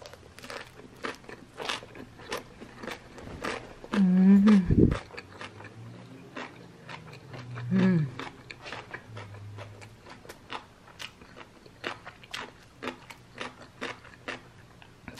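Boiled pork with chunky radish and seasoning being bitten and chewed close up, with crisp crunches and soft smacking spread through the stretch, a couple of louder bursts partway in.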